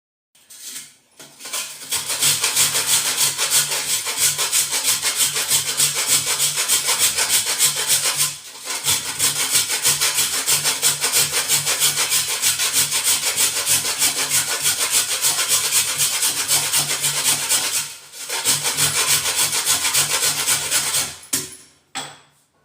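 A clay diya lamp is rubbed and ground into powder with a dry, steady scraping, loud and close, in three long continuous bouts separated by brief pauses.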